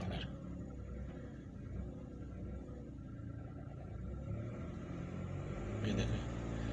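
A car engine idles and revs low as the accelerator is pressed, a faint muffled rumble building slightly toward the end with a brief knock near the close.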